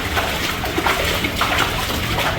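Water rushes steadily through the Hatta falaj, an old underground irrigation tunnel channel in Dubai, a close, continuous gushing flow that fills the whole moment with no talk.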